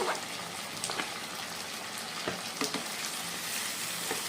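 Chopped tomato frying in a pan for a Bengali dak bungalow chicken, giving a steady close sizzle with a few brief scraping stirs and no voices.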